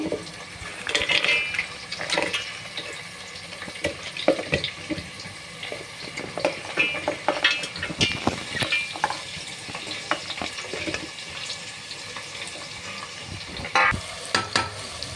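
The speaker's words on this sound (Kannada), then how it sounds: "ಹಸಿಮೆಣಸಿನ್ಕಾಯಿ ಹಾಕಿ ಸ್ವಲ್ಪ ಬಾಡಿಸ್ಕೊಳ್ಳೋಣ" Chopped onions and green chillies sautéing in a pan for tomato bath, with a faint sizzle under intermittent stirring and scraping clatter, plus brief bursts of running water.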